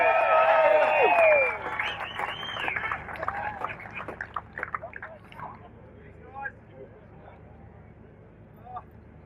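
A crowd at a winners' presentation cheers and applauds, with loud voices and clapping bursting out at the start and then thinning into scattered claps that fade away.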